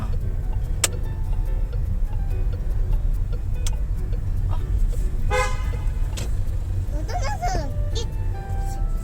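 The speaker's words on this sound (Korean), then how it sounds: "지금 제가 빵빵거렸죠" A car horn toots a few short bursts in traffic in Turkey, loud and close over steady road noise and passing vehicles, with a voice speaking now and then.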